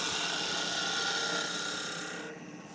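A skew chisel takes a planing cut on wood spinning on a lathe while turning a table leg, a close continuous hiss and rasp that fades slightly at the end.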